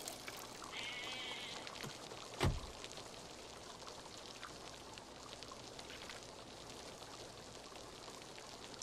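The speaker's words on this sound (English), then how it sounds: "Acid rain." Steady rain patter fills a scene from the film Jurassic Park, a dense wash of falling drops with one brief low thud partway through.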